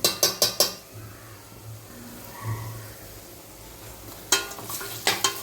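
Ginger garlic paste fries with onions in a metal pan, with sharp spoon scrapes and clinks in short bursts at the start and end and a quieter sizzle between them, close and with no speech.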